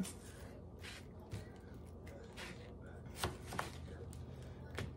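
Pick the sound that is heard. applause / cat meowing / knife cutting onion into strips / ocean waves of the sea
knife cutting onion into strips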